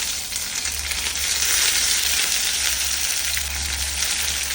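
Mustard seeds and torn dried red chilies sizzle and crackle steadily in hot oil for a Kerala beans thoran, a loud continuous frying hiss with faint pops and no talk.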